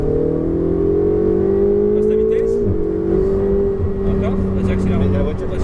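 A Ferrari 488 GTB accelerates hard around the Maison Blanche race circuit, its engine note climbing steadily and loud throughout, with a brief dip near the middle and an instructor talking over it.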